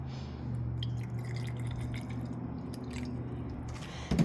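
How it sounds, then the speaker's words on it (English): Vinegar pours steadily into a microwave steam cleaner, a continuous splashing trickle that runs for several seconds and ends with a small clatter. "So first thing I do is I just fill it up to the vinegar line."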